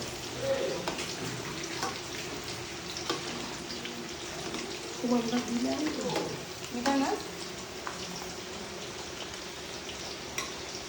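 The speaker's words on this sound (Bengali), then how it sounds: "তো সেই জন্য চিকেন ফ্রাই ভাজা হচ্ছে" Chicken pieces deep-frying in oil for a home-cooked chicken fry, a steady soft sizzle running underneath with occasional utensil scrapes and brief talk nearby.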